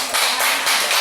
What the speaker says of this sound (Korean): 우리 경례의 박수 한번 드릴까요?